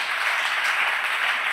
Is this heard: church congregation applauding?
yes